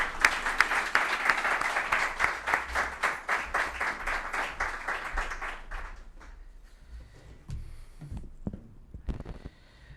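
Audience applause welcoming the chairman of the Overseas Pakistanis Foundation onto the stage, dense clapping for about six seconds that then thins to scattered claps and shuffling.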